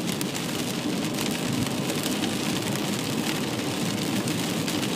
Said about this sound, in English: See, I can drive through the rain.